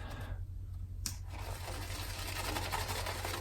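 Shaving brush with a 24mm premium bristle knot loading lather from a Tallow and Steel shaving soap, a continuous close wet swirling and scrubbing texture with a brief sharp tap near the start, no talk.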